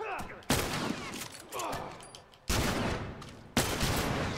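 Gunfire during a multiplayer match of The Last of Us: Factions, with several loud bursts and volleys spaced about a second apart, each trailing off into echoing decay, and players talking in the background.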